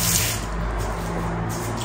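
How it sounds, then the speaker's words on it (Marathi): Water splashes and pours into a paste of garlic, cumin and ajwain in a continuous, close stream, with no talking. "यामध्ये आता मला थोडस पाणी ऍड करून लिक्विड फॉर्म मध्ये बनवायचं आहे"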